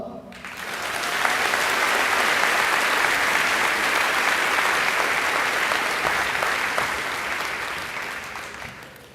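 Graduation ceremony audience at a high school breaks into sustained applause, loud dense clapping that swells within a second and holds steady before gradually tapering off.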